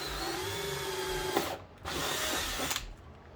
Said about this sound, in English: I've got a 3/8 drill bit. I'm just gonna hit the center.